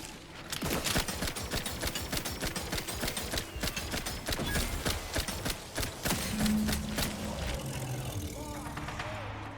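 Rapid gunfire in the sci-fi shooter game The Outer Worlds, dense bursts of shots crackling nonstop over busy combat effects, with game voices speaking throughout.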